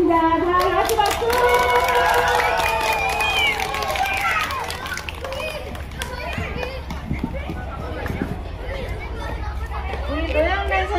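Audience at a community centre's anniversary concert in a café, clapping and cheering loudly at first while voices chatter and call out, then settling into a murmuring crowd with scattered claps.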